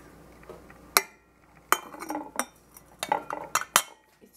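A metal tea strainer set down among cups and pots while oolong tea is prepared, giving a handful of bright, sharp clinks at irregular intervals, close and fairly loud, with small rattles between them.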